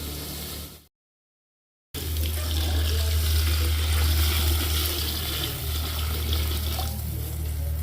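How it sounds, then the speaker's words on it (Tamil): Water is poured into a cooking pot to boil the food in a home kitchen, giving a steady splashing rush that briefly cuts out, then resumes and continues nearby. "தண்ணி விட்டு இந்த தண்ணியிலே நல்லா நம்ம அவிக்கிறோம்"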